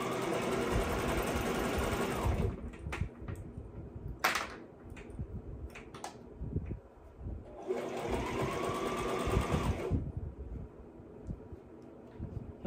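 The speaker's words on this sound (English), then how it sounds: "My sewing machine is a Brother SM2700." A Brother SM2700 sewing machine whirs rapidly in two sustained bursts of stitching, separated by a pause filled with small clicks and handling noises.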